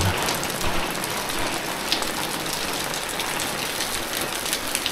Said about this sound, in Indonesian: tuh pancuran air hujan dari pancuran